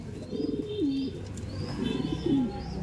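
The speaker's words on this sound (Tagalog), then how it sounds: "Meron tayong isang dumating na ibon." A racing pigeon arriving at the loft, cooing in two clear rising-and-falling calls close by, with faint background noise and no talk.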